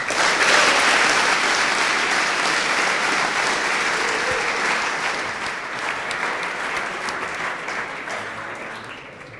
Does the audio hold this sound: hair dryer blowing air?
no